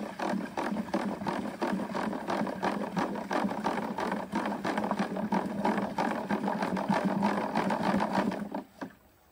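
A mixture of liquid organic manure containing mycorrhizal fungus is stirred in a container. It gives a steady, rapid, rhythmic swishing and sloshing that is close and fairly loud, runs for about eight seconds, then stops abruptly. No one speaks.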